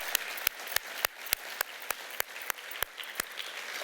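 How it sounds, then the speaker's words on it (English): Sparse, slow clapping from a small number of hands at an investment forum gathering, about a dozen sharp, evenly spaced claps over a quiet background. "I just think you all deserve a round of applause"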